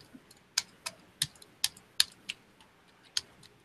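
Keys clack on a Logitech G510s, a ten-year-old non-mechanical membrane gaming keyboard, in a sparse, uneven run of about a dozen close, crisp taps.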